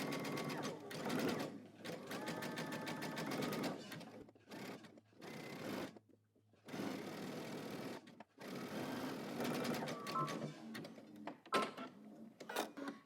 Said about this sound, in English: you're going to go to the sewing machine and you're going to zigzag stitch your elastic onto your seam allowance